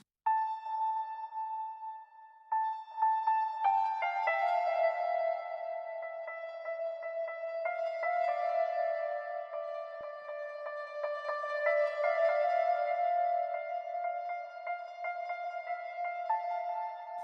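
Afro House keys play alone in Logic Pro, sustained tonal chords that change every few seconds and ring out with a wide atmospheric reverb tail.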